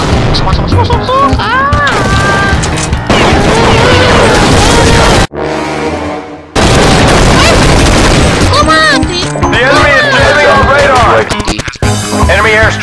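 Loud, close gunfire and booming impacts in Call of Duty: Modern Warfare, shots and blasts in dense clusters, broken by a short quieter pause, with people talking over the action.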